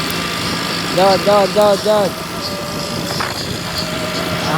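A tractor is driven along toward farm fields with a steady engine rumble underneath; four short tonal honks sound early on, and voices talk over it.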